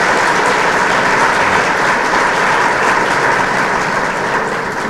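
Audience applause fills a graduation oath ceremony for new law graduates, a dense, steady roar of many hands clapping continuously from start to finish, loud and sustained with no voices above it.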